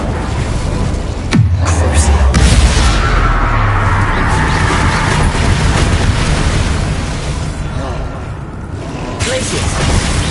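The Incendio fire spell in the Hogwarts Legacy video game lands as a sharp blast followed by roaring, rumbling fire and crashing debris that churns loudly for several seconds, with game noise underneath.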